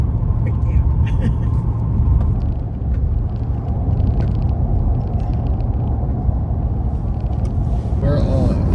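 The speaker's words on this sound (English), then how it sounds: "We're driving. On the road again." Steady low engine and road rumble from a car driving along a road in Wyoming, loud and continuous throughout, with a brief higher whine near the end.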